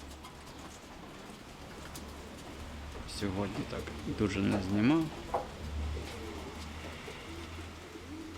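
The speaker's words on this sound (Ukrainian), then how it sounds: "Голуби сідають." Pigeons coo softly and repeatedly in the middle of the clip as they land, with someone talking over the birds and faint outdoor background noise.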